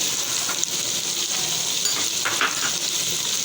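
Hard-boiled eggs sauté with cumin, turmeric and other ground spices for egg biryani, giving a steady, close sizzle and crackle of frying oil throughout, with faint scrapes of stirring and no talking.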